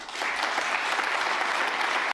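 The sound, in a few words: audience applause during a speech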